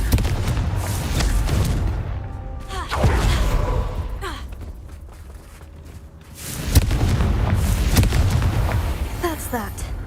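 Confringo, the explosive spell in Hogwarts Legacy, goes off as a few sharp booming blasts spread across the span, each with a rumbling tail over a busy game backdrop of lighter clatter.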